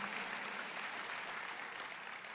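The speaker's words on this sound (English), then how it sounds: "Yes, that is a reason to applaud." Audience applause at a county government State of the County address, a dense steady clatter of many hands clapping that fills the whole stretch and eases off slightly toward the end.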